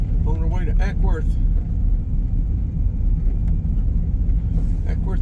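A car cruises along the I-20 and I-75 interstate through Atlanta, with a steady, close road rumble and tire drone filling the cabin. A voice is briefly heard at the start.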